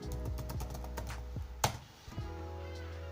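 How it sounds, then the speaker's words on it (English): Computer keyboard keys pressed while the shift key is held during video editing, giving a few close, sharp clicks spread over a steady low hum. "I'm holding on shift on my keyboard"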